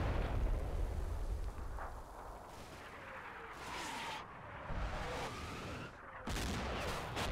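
Artillery shells from 105 mm guns bursting near a bridge in a Combat Mission Final Blitzkrieg battle at Stavelot, a string of heavy booms and crackling blasts, loud and close, with gunfire mixed in and no talk.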